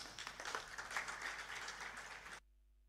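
Audience applause at a Freedom Day debate in a legislature chamber, a brief burst of moderately faint, steady clapping from a crowd that cuts off abruptly.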